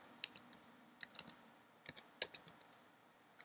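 Light, sparse keystrokes on a computer keyboard in a quiet room, scattered close clicks in short bursts with no voice over them.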